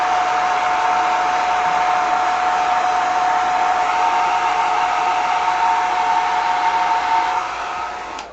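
A hair dryer drying paint on a gel printing plate, blowing as a loud, continuous whine-laced hiss close by that runs steadily for several seconds before beginning to wind down at the end.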